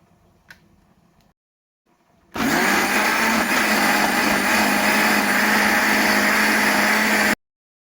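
An electric blender purees tomatoes, onions and chili peppers, starting abruptly with a loud whirring roar that holds steady for about five seconds before cutting off sharply, after a few faint clicks.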